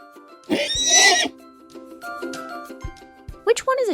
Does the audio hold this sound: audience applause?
no